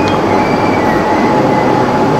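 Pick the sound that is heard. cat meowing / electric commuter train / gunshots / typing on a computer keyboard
electric commuter train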